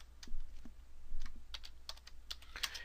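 Typing on a computer keyboard while entering spreadsheet code, with a scattered run of quick clicky keystrokes that thickens into a denser burst near the end, close by with no talking.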